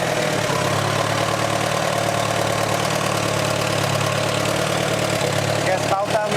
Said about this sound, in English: we're just going to try it in gear one more time and see if that'll allow it to turn over